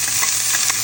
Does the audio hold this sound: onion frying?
yes